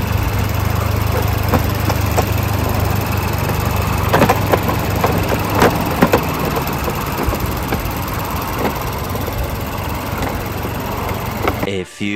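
Mazda car engine idling close by, a steady droning rumble with light clicks and rattles throughout, speech faintly present.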